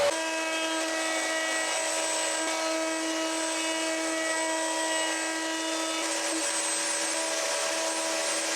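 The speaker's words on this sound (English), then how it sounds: "I'm using a 22-degree chamfer bit from Freud." A router table cuts a chamfer along walnut with a Freud 22-degree chamfer bit, giving a steady, loud high-pitched whine with a sustained motor tone that holds evenly throughout, with no talking.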